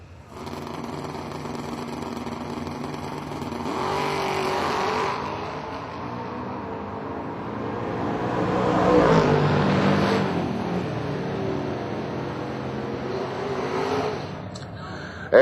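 Red Chevy S10 pickup trucks drag racing at a strip, engines roaring and rising in pitch as they launch and pull away, with a steady engine drone throughout and swelling passes mid-run under faint crowd noise.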